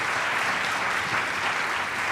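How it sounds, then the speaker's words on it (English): A crowd applauding loudly and continuously, a dense even wash of clapping filling the moment. "please join me here on stage, and a big round of applause for Peter Wadhams."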